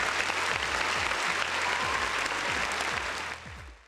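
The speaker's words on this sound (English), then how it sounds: "you are one of the few that make it this far, and we applaud you" A crowd's steady applause fills the whole stretch, loud and continuous, with soft low thumps pulsing underneath before the clapping thins out near the end.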